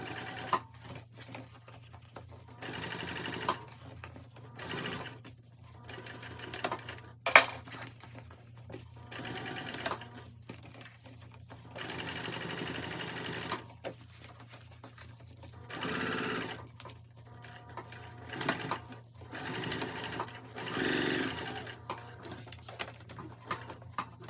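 A sewing machine top-stitches a tote bag in bursts of fast, steady whirring separated by short pauses, close and fairly quiet, with a constant low hum underneath.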